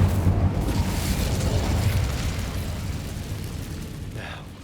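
The Incendio fire spell is cast in Hogwarts Legacy, giving a steady, loud, roaring whoosh of flame with a rumbling low body that slowly fades over several seconds.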